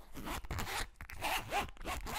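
Zipper on a carrying case for HZSound Heart Mirror earphones, pulled in several quick rasping strokes with short gaps between them, close and clear with no talking.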